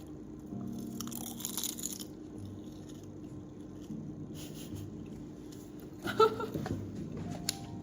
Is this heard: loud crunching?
yes